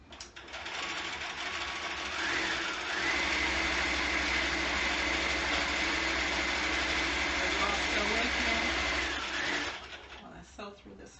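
A sewing machine hums steadily for a long continuous run while stitching the lining around a coat, fading out near the end; a voice talks over part of it.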